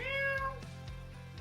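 A cat meows once clearly inside a local appliance store radio ad, a rising and falling call followed by lower background tones and faint sounds.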